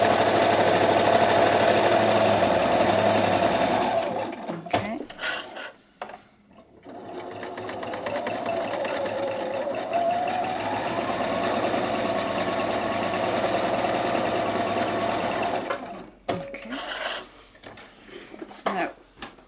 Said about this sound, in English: I am going to machine it down there.